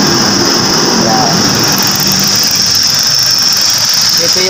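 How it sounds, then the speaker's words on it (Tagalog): GAC Motor 1.5-litre car engine idling in a repair shop, a steady loud mechanical drone with a high belt squeal and broadband hiss throughout, close up and continuous. "Ito yung makina ni GAC motor GAC"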